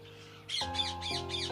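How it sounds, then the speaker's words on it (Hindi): Birds in tree branches give a short run of four harsh, crow-like calls evenly spaced over a soft background tone, fairly close but quiet. "अचानक से पेड़ की शाखों में से चहचहाने की आवाज आई"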